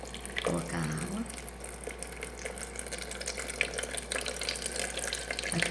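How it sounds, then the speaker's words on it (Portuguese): Water pours steadily from a tap into a blender of fruit and vegetable juice, a continuous splashing wash running throughout at close range, with a voice present at the start. "Agora eu vou colocar a água"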